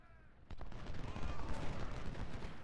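Musket volleys crackle from massed infantry firing at artillery in the Civil War strategy game Ultimate General: Civil War, a dense, sustained rattle of gunfire at moderate distance, mixed with game sound.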